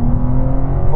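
Cars launching in a half-mile drag race among a BMW M2, Audi RS3, AMG A45 S and Porsche Boxster GTS, a loud, close, steady engine roar heard from inside a car for about a second.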